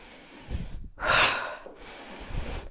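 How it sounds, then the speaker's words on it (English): A forceful outward breath during a twisting move in a bodyweight HIIT warm-up, one strong rushing exhale between softer breaths, close and without speech. "breathe out when you twist"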